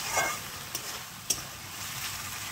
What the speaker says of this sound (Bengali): চিকেনটা ওর মধ্যে দিয়ে দেব, দিয়ে বেশ ভালো করে কষিয়ে নেব।